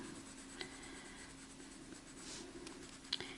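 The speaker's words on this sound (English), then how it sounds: "I'm laying my pencil down and getting more of a broad stroke," Graphite pencil laid on its side making broad, irregular shading strokes while drawing a jumbo tree, giving a faint, steady scratchy rustle with a couple of soft ticks, quiet and close with no talking.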